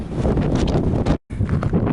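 Cold wind gusts hard across a Mykonos hillside, a loud, close roar buffeting the microphone, broken by a brief moment of quiet before it rushes back.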